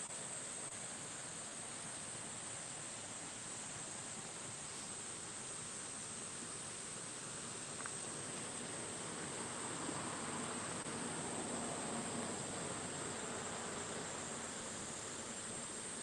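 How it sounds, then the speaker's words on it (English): Water flows outdoors along a walking route in Japan, a steady, soft, broadband rush with no break and no voices. "I can never get used to the sound of water."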